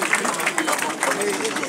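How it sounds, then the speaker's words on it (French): Applause from the crowd at an independence anniversary ceremony in Diassa, Côte d'Ivoire, a dense wash of clapping that continues steadily through the short moment. "On continue d'applaudir"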